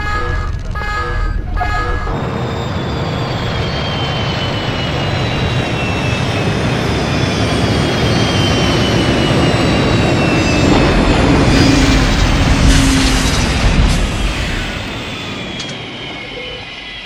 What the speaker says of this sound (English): Shutting down thrusters and powering down anti-gravs.